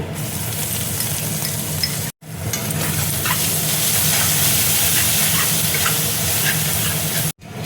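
Ginger paste and fennel powder fry in a pan for a soya chunks dish, a loud close sizzle broken by two short silent cuts, with stirring sounds and no talking.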